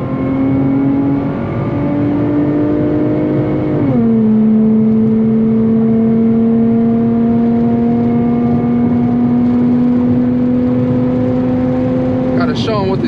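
An Infiniti G35 engine revs hard and holds a steady high drone as it accelerates on a back road, with a pitch drop near four seconds as it shifts, loud and close.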